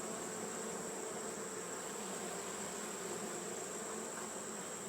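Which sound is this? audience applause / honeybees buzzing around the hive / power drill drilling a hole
honeybees buzzing around the hive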